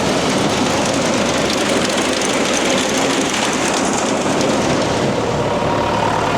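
A farm machine's engine runs steadily after being put into low gear, a loud, constant rumbling drone with mechanical chatter and no pauses or talking.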